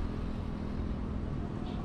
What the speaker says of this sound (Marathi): गाड्या पण भरपूर चालल्यात